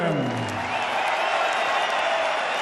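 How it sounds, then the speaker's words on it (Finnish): Finnish crowd at a boxing event gives ringing applause as boxer Eva Wahlström is introduced, a steady dense wash of clapping with scattered cheers that stays loud and even throughout. "suomalaisyleisö antaa raikuvat aplodit tässä vaiheessa Eevalle, kun hänet esitellään"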